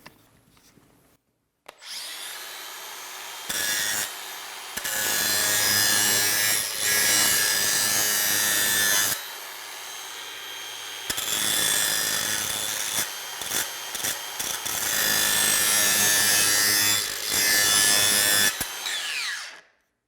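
A Makita 18V LXT brushless X-Lock cordless grinder runs in loud bursts, spinning up and grinding for several seconds at a time with brief pauses and stops between passes, close to the listener.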